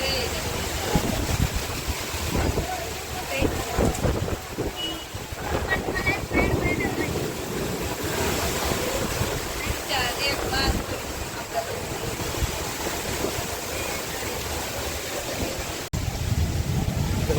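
Strong wind gusting during a summer rain, blowing steadily and loudly across the microphone for the whole stretch, with brief voices showing up faintly underneath.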